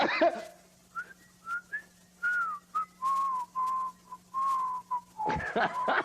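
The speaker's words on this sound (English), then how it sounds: "But now you got a whistle." A person whistles a slow, sustained melody up close, with long held notes and short pauses, mostly alone over a faint steady hum, with a brief burst of other sound near the end.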